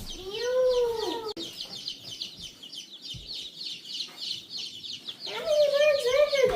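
Hens cluck loudly and repeatedly at close range indoors near a heat lamp, with a steady chorus of high chick peeping running throughout between the bursts of clucking.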